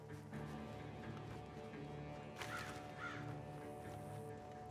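Crows cawing in the Red Dead Redemption 2 game, two short harsh calls a moment apart heard over a steady wash of ambient game background noise.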